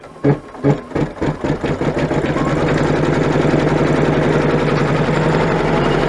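An embroidery machine stitches out a zippered coin purse in the hoop, starting with a few separate needle strokes, then settling into a fast, steady, close mechanical chatter.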